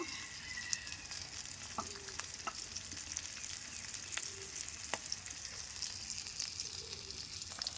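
Aair fish fries in hot oil in a home kitchen with a steady, close sizzle and crackle, broken by occasional light utensil taps.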